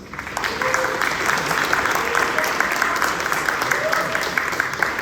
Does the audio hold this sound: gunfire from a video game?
no